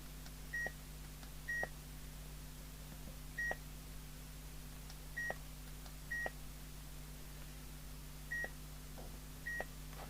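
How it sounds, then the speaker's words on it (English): A PNI HP8900 CB radio gives out its number 2 Roger bleep, a short two-tone beep repeated about every second or so, faint over a steady low hum with no talk. "So that's Roger bleep number 2."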